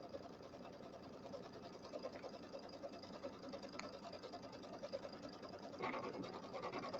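A sewing machine stitches a St Patrick's Day settee pillow with embroidery, running as a steady, continuous mechanical whir at moderate volume with no one talking.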